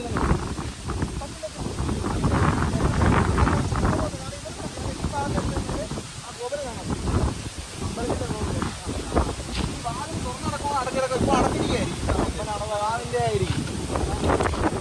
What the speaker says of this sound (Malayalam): നമ്മൾ പ്രതീക്ഷ പോലെയല്ല, നല്ല കാറ്റുണ്ടായിരുന്നു